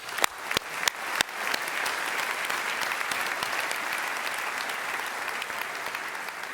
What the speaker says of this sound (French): je vous propose une fois de plus d'applaudir tous les créateurs ici présents ce soir